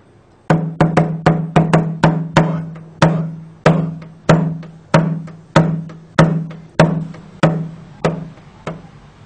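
A frame drum is struck in a steady repeating single pulse, roughly a dozen evenly spaced resonant booming hits with ringing decay, close and loud, with no voices.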